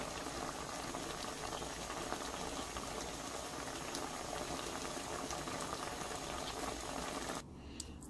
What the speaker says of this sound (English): my chicken is cooking. It's cooking. I didn't add water.